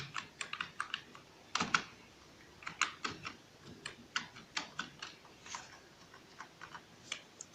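Typing on a computer keyboard, with rapid, irregular bursts of close key clicks and occasional heavier keystrokes, heard alone without any talking.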